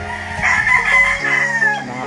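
A white kelso gamefowl rooster crows at a game farm in Tanay, Rizal: one loud, close, drawn-out crow lasting about two seconds, with no talk over it.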